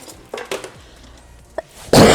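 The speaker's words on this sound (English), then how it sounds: "coughing straight into the mic" Several short coughs straight into a clip-on lavalier microphone, a few scattered bursts ending in a loud, harsh cough right at the mic, with quiet room tone between.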